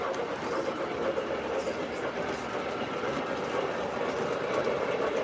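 A Lionel Legacy O scale model train runs along its track with a continuous close rumble and faint rhythmic clatter of wheels, steady throughout without pauses.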